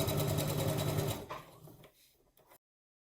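A sewing machine stitches fabric for a protective mask, running in a steady rapid whir for about a second before slowing, stopping and leaving faint handling noises, with no talk.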